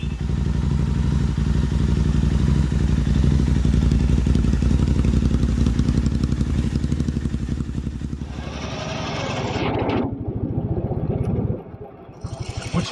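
Royal Enfield Bear 650 motorcycle idling close up with a steady pulsing throb, then clicking into gear, the engine note shifting and falling away near the end.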